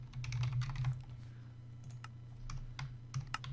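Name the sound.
typing on a computer keyboard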